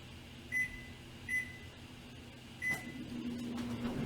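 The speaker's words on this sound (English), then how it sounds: "So you're going to stick it in your microwave." A microwave oven hums steadily while cooking a chocolate mug cake, with a few short high beeps or clicks near the start and a faint low drone throughout.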